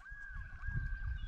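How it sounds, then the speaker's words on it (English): A gull calls near a rocky breeding site on a remote island lake: one sustained, nasal, honking cry carries on for about a second over low wind and water noise, with no talk. "You hear the gull now."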